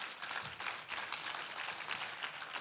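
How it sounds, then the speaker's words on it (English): Audience applause at a business summit and exhibition, a steady patter of many hands clapping together for a couple of seconds, sounding rather distant and subdued. "You're going to clap really loud."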